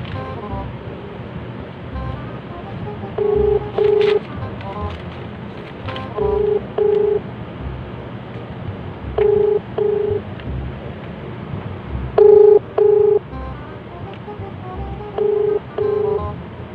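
Telephone dialing tones before a prank call: five pairs of short, steady keypad beeps spaced a few seconds apart, loud over a low background hiss, with no talking.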